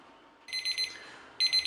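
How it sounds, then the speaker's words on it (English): A kitchen timer goes off while bread bakes, giving two short bursts of rapid, bright electronic beeping close by in an otherwise quiet room. "Okay, my timer is going off."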